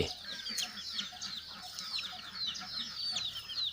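A flock of backyard village chickens clucking and peeping nonstop, close by, with busy overlapping calls and no talking.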